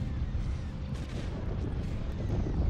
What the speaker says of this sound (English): We do have the turrets firing at him.